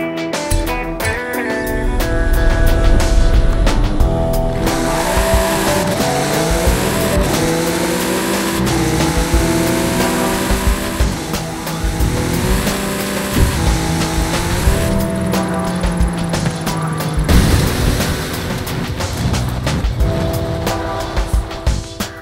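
An Infinity car in Forza Horizon 5 races toward a danger sign, its engine revving loud and steady, with tire squeal and shifting engine tones across the drive, music-like layers underneath.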